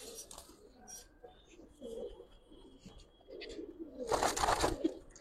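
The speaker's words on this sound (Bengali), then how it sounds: "মাশাআল্লাহ অনেক সুন্দর কবুতর।" Giribaz pigeons coo with soft, low, intermittent calls close by, mixed with wing flutters and a louder burst of flapping near the end; a person speaks briefly in the background.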